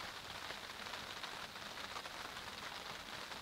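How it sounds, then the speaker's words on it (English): Steady rain patters on the fabric of a heated camping tent on an autumn night, a dense, even hiss of drops heard from inside, continuous and fairly loud with no voices. "I love the sound of rain inside of a hot tent when it's nice and warm."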